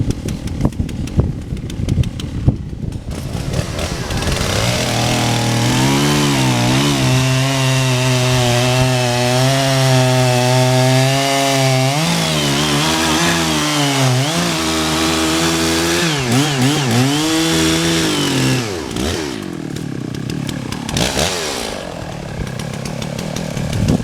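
A chainsaw cuts into a black walnut log, its engine revving loud and steady for most of the stretch, with the pitch dipping and rising as the chain bites and bogs in the wood before winding down near the end.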